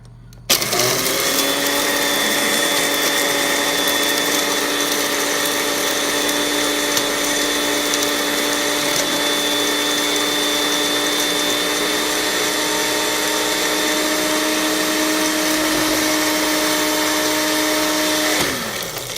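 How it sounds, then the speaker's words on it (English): A small Magic Bullet blender grinds cauliflower with a loud, steady high-pitched whirr. The motor spins up at the start and runs nearly nineteen seconds before cutting off. No one talks over it. "I'm just using my little magic bullet, and I'm going to grind that down."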